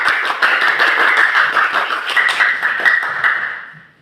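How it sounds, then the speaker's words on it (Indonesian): A class of students applauds together, dense hand clapping filling the room at close range for several seconds before tapering off at the end. "Tepuk tangan untuk kita semua."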